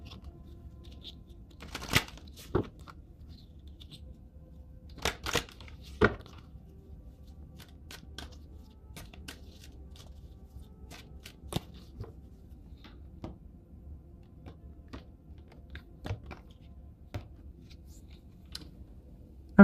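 Oracle cards being shuffled and handled, giving scattered soft riffling and sharp slapping taps in sparse bursts over a quiet room hum, with no talking.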